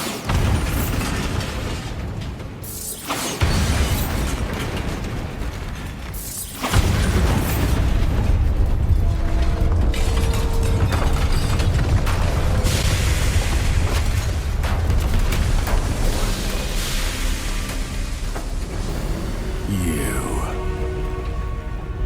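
Bombarda, an explosion spell in Hogwarts Legacy, sets off loud booming blasts in the game. Two heavy bursts are followed by a dense, rumbling roar and crackling debris that stay loud to the end.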